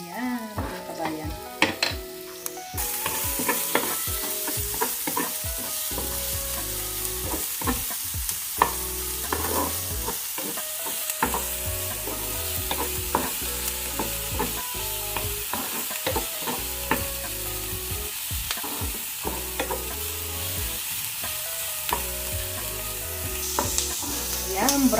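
A whole white onion fries in a pan with a continuous sizzle while a utensil stirs and scrapes it, giving frequent clattering knocks against the pan, loud and close with no talking.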